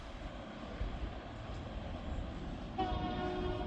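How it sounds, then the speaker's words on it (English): A train passing by outdoors, a steady broad rumble of wheels and wind-like noise with a tonal horn or wheel squeal rising briefly near the end, no talk. "I think that is a train passing by."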